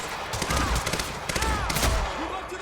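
Rapid bursts of gunfire from the video game Quantum Break, a busy fusillade of repeated shots with a speaking voice over part of it.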